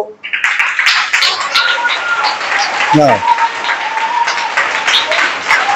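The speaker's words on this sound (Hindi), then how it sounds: "अपनी तरफ से ताली बजा बच्चे को" A religious gathering's audience claps for a child, a loud, sustained round of applause from many hands, with a short vocal sound rising partway through and speech-like murmurs beneath.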